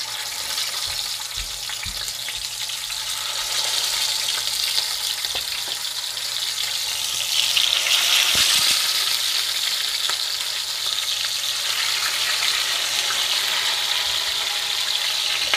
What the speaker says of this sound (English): my skillet is pretty hot and going, so now we're just gonna brown these